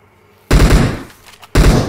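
Gunfire from the mobile battle royale game PUBG Mobile, two loud close bursts of rapid shots separated by a brief quieter gap, with no talking.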